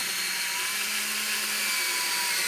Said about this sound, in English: I'm going to have you run the next 2 screws in.